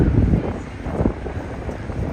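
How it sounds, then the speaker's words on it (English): Strong wind buffets the microphone on a Tokyo street in Ginza, a continuous low roaring rumble with gusty swells throughout and no voices. "It's also pretty windy. Much windier than I expected, actually."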